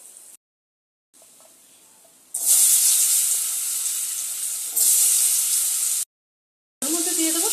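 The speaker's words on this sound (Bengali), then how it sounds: "ওই একই তেলে আলুটাকে ভেজে নেব।" Potatoes frying in the same oil used for fish heads, a loud steady sizzle and hiss that comes in bursts separated by brief silences.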